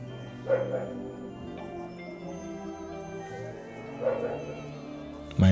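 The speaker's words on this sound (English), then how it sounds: "My dog is disturbing" Two short dog barks or yips sound in the background at about half a second and four seconds, fairly distant behind a quiet indoor room tone, with a sharp thump at the very end.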